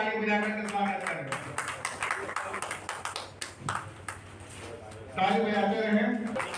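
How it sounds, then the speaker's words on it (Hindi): Scattered hand clapping welcomes former JDU leader Vinod Kumar Singh at a Congress joining event. The dense, crackling claps fill a few seconds between stretches of someone talking loudly into a microphone. "ताली बजाते रहे,"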